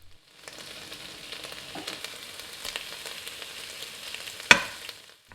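Chili bean sauce is stirred into a hot frying pan, giving a steady close sizzle with light scraping and one sharp knock of the utensil near the end, and no speech.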